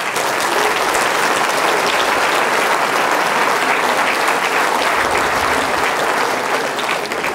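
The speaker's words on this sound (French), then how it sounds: "Eh bien, je crois qu'on peut les applaudir." An audience at a New Year's wishes ceremony for local development actors applauds with dense, sustained clapping that stays loud and even throughout, with no talk over it.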